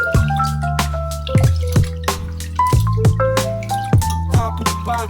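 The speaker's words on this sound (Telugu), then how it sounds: "నీళ్లు పోసి మనము క్లీన్గా కడుక్కోవాలి" Close-up wet swishing and dripping of lentils stirred in water, with repeated sloshes and droplets falling back into a bowl, no talking.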